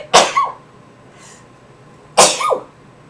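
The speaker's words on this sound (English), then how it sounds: "I'm gonna sneeze." A person sneezes twice while spinning fiber, the loosely flying strands having gone up their nose; two sharp bursts about two seconds apart, each with a short trailing vocal tail and a soft breath in between.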